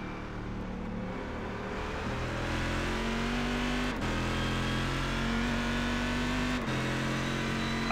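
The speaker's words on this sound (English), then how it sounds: "I can actually hear the guy behind me get on the gas before me." A GT1 race car in iRacing at Watkins Glen accelerates hard behind, its engine note rising and holding steady, loud and continuous with no talk.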